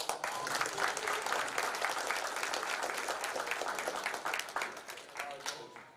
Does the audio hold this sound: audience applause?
yes